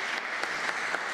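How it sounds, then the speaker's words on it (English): Audience applause after a maritime security talk by an admiral, a dense steady wash of many hands clapping at moderate level throughout, with no one speaking over it. "This is the time for thunderous applause"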